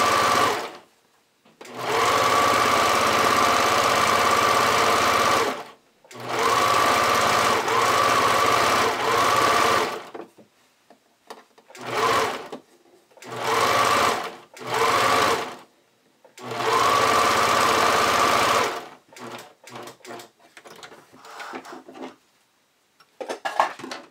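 Sewing machine applying elastic to a bodysuit leg line, loud close runs of steady stitching in several bursts of a few seconds each, separated by silences, ending in shorter stop-start stitches and handling clicks.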